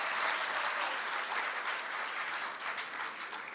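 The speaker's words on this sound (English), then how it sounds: "Can we please have a huge round of applause for all our guests for sharing such wonderful insights." Sustained applause from an audience honoring the guests at a product launch event, steady and dense throughout without any talking.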